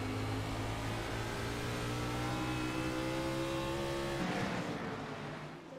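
Stock race cars lapping at North Wilkesboro, several engines droning together at high revs in a dense, sustained roar, pitch shifting as cars pass, with no talk over it.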